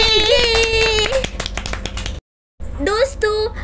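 People clapping loudly in an animated scene, a quick burst of sharp, close claps lasting about a second between stretches of high, childlike voices talking and cheering.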